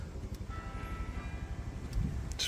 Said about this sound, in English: Just wait for the church bells to stop.